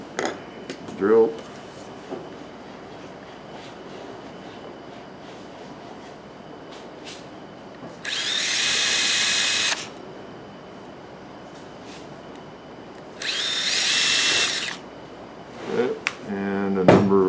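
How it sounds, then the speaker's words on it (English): A handheld drill bores two pilot holes in a wooden canjo neck for a tuning machine, each a loud whirring burst of roughly one and a half seconds, separated by quiet workshop handling and light clatter. "Drill."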